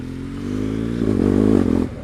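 A motorcycle on an Alpine mountain road, its engine droning steadily and then swelling louder with a rough, scraping clatter as the rear tyre briefly skids, before settling again.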